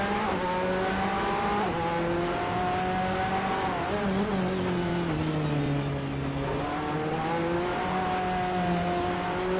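LMP3 prototype race cars lap Circuit Bugatti, their engines revving through the gears with rising and falling pitch as they brake into corners and accelerate out. The sound is steady and fairly loud, with no speech.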